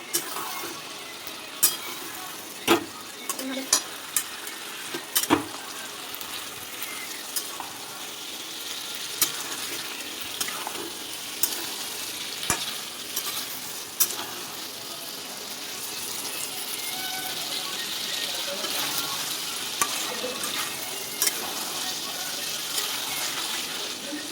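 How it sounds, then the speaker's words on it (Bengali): Chickpeas sauté in a pan for a chole curry, a continuous soft sizzle under repeated scraping and clacking of a spoon stirring, with occasional sharper knocks against the pan. "আমি ভালো করে কষিয়ে নিয়েছি ছোলা।"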